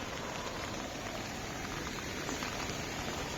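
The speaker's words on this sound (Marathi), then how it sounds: "पाण्याचा झरा आहे पूर्ण इकडनं वाहतोय बघा" A spring-fed stream in Konkan runs beside rice fields, making a continuous, dense rushing and bubbling of water at steady loudness with no voices.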